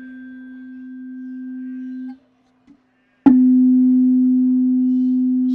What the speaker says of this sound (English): I have, for instance, two tuning forks right here in front of me.